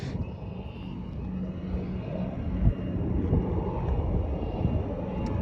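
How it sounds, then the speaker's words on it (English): An airplane at an airport, a low rumbling engine drone heard from outdoors, steady and moderately loud, slowly growing slightly stronger, with wind buffeting the microphone. "The other aircraft is in sight."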